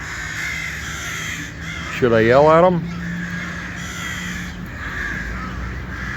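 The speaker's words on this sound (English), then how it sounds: "Oh, now the crows." Crows stirred up outdoors: one loud, drawn-out caw rises over steady background hiss while a person speaks nearby.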